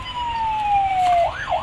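A toy police car plays an ambulance siren: a thin electronic tone that slides slowly downward, then breaks into a quick rising-and-falling wail near the end, steady and fairly loud with no voices.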